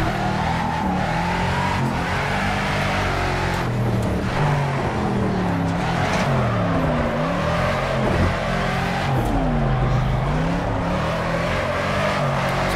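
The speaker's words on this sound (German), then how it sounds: "damit ihr den schönen V8 hören könnt" The V8 of a Mercedes 300SEL 6.8 AMG roars continuously in the racing game Project CARS on the Greenwood track, loud and close, revving up and down through gear changes without a break.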